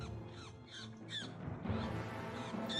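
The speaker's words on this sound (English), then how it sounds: "The last noises in this cuckoo's life made the hawk even more excited." A cuckoo pinned beneath a sparrowhawk's claws gives harsh, strained squawks, a few rough cries rising over a noisy outdoor background.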